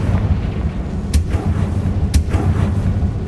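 Bombarda and Confringo spell blasts in Hogwarts Legacy, two sharp booming bursts about a second apart over a dense, rumbling low background of game ambience.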